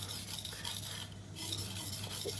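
A chef knife is drawn over a Naniwa whetstone under light pressure, giving a steady, continuous close-up rasping scrape with a brief lighter dip midway and no talk.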